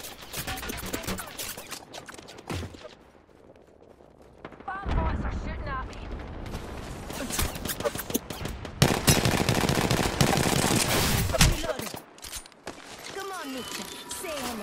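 Gunfire in Apex Legends, bursts of rapid automatic shots and heavier blasts that come and go across the clip, loud and close, with in-game voice lines between them.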